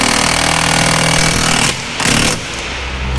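An impact wrench hammers a wheel stud through the hub on an Infiniti G20, a loud rapid rattling burst that cuts out briefly, then fires again in short pulses.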